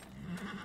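A horse in Dragon Age Inquisition gives a short, close whinny with a wavering low pitch, standing alone over a faint ambient background.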